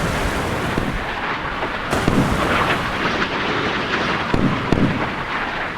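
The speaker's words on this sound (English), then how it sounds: "5-inch guns or 130mm guns firing" 5-inch or 130mm naval guns fire in Sea Power during a clash between a US Iowa battleship and a Soviet Slava missile cruiser, with a rumbling wash of battle noise broken by repeated heavy booms and sharp cracks.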